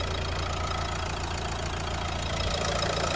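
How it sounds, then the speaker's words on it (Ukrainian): A Renault Megane dCi diesel engine idles with a steady, low, rough rumble and a faint knocking rhythm, heard close and unchanging. "Я думаю, на відео має передати, що мотор працює"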